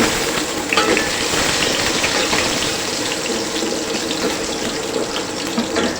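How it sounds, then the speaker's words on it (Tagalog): Garlic hits hot cooking oil in a pan and sizzles loudly and steadily for several seconds with a dense, crackling hiss and occasional spatters, and no one speaks. "mainit na pala ito ating mantika. Bawang mga boss, lagyan na natin"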